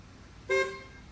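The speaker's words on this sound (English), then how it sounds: "Honks." Single short car horn honk, a bright, tonal blast lasting about a fifth of a second that stands clearly above faint background hum.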